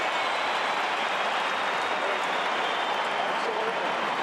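Crowd roar at an AFL football match between Collingwood and Adelaide, a broad sustained wash of cheering at steady loudness with a commentator talking over it.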